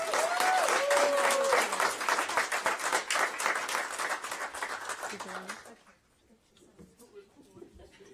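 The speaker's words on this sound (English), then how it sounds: "so please clap loud" Loud applause and clapping from a school board meeting audience fills the room for several seconds, then quickly dies away to quiet room noise, with a voice briefly audible over the start.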